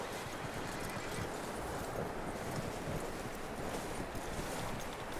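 A horse in Red Dead Redemption 2 gives a soft, steady stream of hoof noise under a constant wash of wind-like ambience, faint and distant, with no clear neigh standing out.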